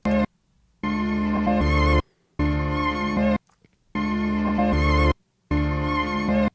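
A rearranged, partly reversed sample of a 1971 Dutch folk song plays in four choppy blocks of sustained, chord-rich music, each cut off abruptly by short gaps of silence, with no effects added.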